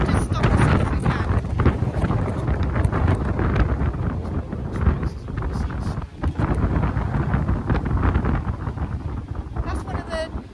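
Strong winter wind buffets a narrowboat on the Llangollen Canal, a loud continuous roar and gusting rumble against the microphone that barely lets up, with voices partly heard beneath it.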